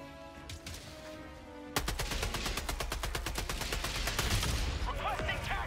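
Rapid automatic gunfire from the Helldivers 2 video game erupts after a quieter stretch, a dense run of loud evenly spaced shots continuing steadily to the end.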